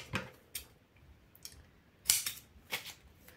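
Scissors snipping paper or lace while making a shabby-style card, a handful of short crisp cuts spaced unevenly, close and fairly quiet with no talk.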